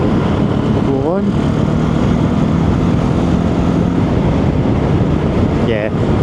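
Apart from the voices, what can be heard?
Benelli TRK 702 motorcycle engine, downshifting to fifth to overtake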